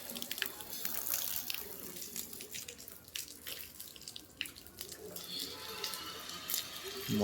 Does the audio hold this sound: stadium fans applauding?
no